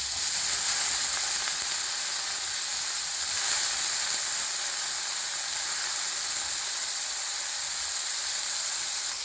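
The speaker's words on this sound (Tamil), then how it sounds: "உப்புல ஊற வச்சிருக்கிற பாவக்காவை போட்டு வதக்கணும்." Steady, loud sizzling of salted bitter gourd sautéing in hot oil, an unbroken crackling hiss with no voices.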